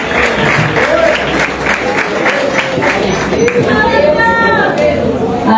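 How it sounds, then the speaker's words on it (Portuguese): Congregation in a church clapping steadily and joyfully, a loud continuous wash of applause with crowd chatter and a few voices calling out over it. "Recebamos a serva do Senhor com palmas bem alegres para o Senhor Jesus."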